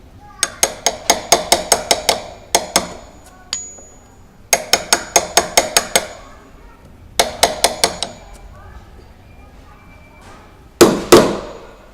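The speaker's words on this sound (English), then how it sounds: "You can revert back to using the chisel in that instance." A chisel cutting a hinge mortise in the edge of an MDF door, heard as close, sharp wooden knocks in quick runs of eight or nine, separated by short pauses, with a couple of heavier strikes near the end.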